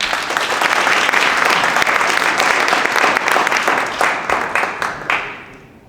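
An audience at an open learning summit showcase applauds the day's presenters, sustained loud clapping that thins into scattered claps toward the end.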